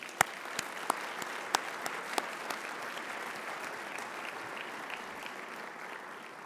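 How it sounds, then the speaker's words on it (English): Audience applause at a regional gathering of realtors and civic partners, soft, steady clapping with a few sharp, louder claps standing out early on. "Let's give all of these folks a big round of applause."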